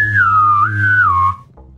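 A person whistles a single sustained, wavering tune for over a second, loud and close, then stops abruptly, leaving quiet background.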